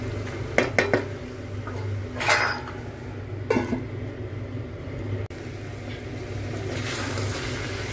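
Goat meat bhutuwa is stir-fried in a pan, with a metal spoon scraping and clanking against the pan in several sharp bursts over a steady background hum.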